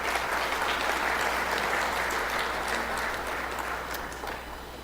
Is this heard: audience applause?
yes